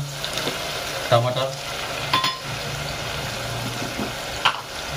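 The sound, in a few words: spice paste frying in a pan for mutton curry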